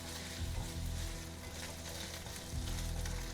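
A spice paste for a tandoori-style rice dish fries in a pan, giving a steady, soft crackling sizzle with faint stirring scrapes, close and fairly quiet, with no talking.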